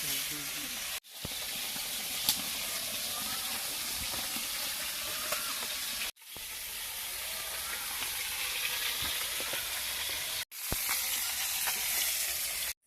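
Fish sizzle and spit in hot oil with a steady, crackling hiss close by, broken twice by brief silent gaps.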